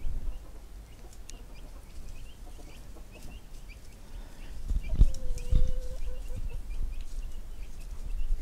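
Soft clucking and chirping from young Chantecler chickens in a garden, small calls scattered over a low outdoor background, with a slightly louder cluster of calls near the middle.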